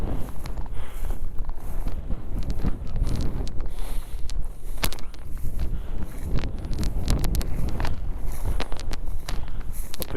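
Strong wind buffets a microphone on an open hilltop during a grouse hunt, a loud continuous roar with gusting surges and sharp crackles throughout.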